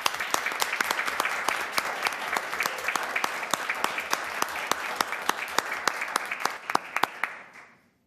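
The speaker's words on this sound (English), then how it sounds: "if we could ask her to stand up and maybe just give her a round of applause" A city committee meeting audience applauds a retiring healthcare worker: steady clapping from a modest crowd with a few sharp, close individual claps standing out, tapering off and fading to silence at the end.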